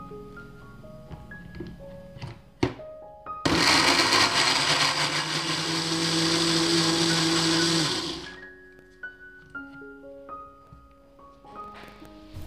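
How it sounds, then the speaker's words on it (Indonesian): A blender grinding shallots and garlic whirs loudly for about five seconds, a steady high-pitched grinding whine that starts abruptly and winds down, with quieter clattering before and after. "Kemudian kita blender sampai halus."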